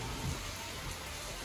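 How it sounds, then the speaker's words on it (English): Rain falls steadily during a trip on Maui, Hawaii, a soft continuous hiss of drops, faint and even with no other clear sounds. "it's raining again"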